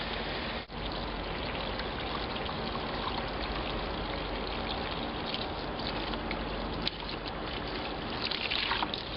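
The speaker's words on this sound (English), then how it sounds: "So I've got my water running." Water runs steadily from a tap or hose while cheesecloth is used to filter fly maggots, a continuous close hiss and splash with no pauses and no voices.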